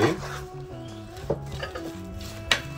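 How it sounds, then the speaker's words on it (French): A fennel and red radish salad is tossed in a bowl, with light clinks and scrapes of utensils against the dish in irregular bursts over a faint background hum. "La salade, on va la mélanger."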